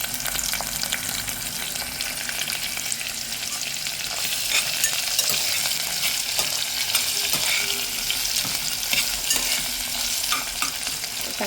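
Onion sautés in a pan for Maharashtrian masale bhat, a loud continuous sizzle with constant stirring scrapes, close and unbroken throughout.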